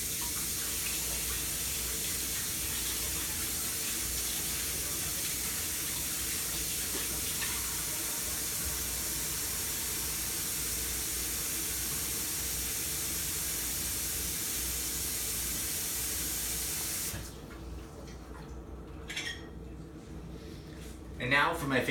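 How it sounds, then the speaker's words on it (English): Water runs steadily from a kitchen tap for handwashing, a constant close hiss that cuts off abruptly near the end and leaves faint handling noises. "I'm gonna wash my hands."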